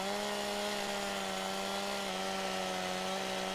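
A chainsaw drones steadily at high revs as it cuts a tree in the Farming Simulator video game, one continuous, even engine whine heard up close with no one talking.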